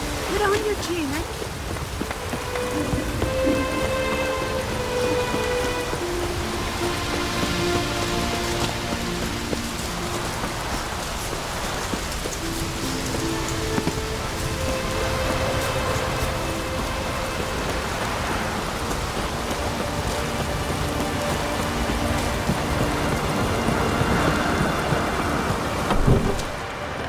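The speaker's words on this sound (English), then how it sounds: "it's raining" Steady rain patters on surfaces in The Witcher 3 video game, with low rumbles of thunder rolling underneath while characters speak over the downpour.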